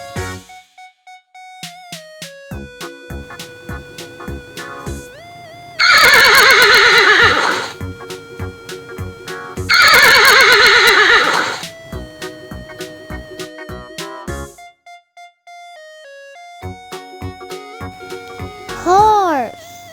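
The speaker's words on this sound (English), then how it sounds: "Horse." Horse neighing over a cheerful backing tune: two loud, long whinnies several seconds apart, with a voice speaking briefly near the end.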